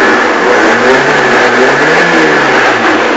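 A Saab 900 Turbo engine, run hot, is revved hard at full throttle, producing a loud, sustained, strained roar that holds steady without pause.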